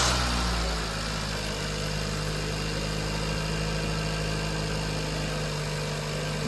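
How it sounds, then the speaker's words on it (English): A car engine cranks and fires up, then settles into a steady, loud idle close by, its low droning hum running unbroken with no voices. "Hey Miles, start it up"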